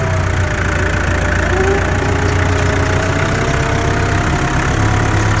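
A tractor engine runs steadily while tedding hay in a field on a dry afternoon, a loud, close, continuous low rumble with no voices over it.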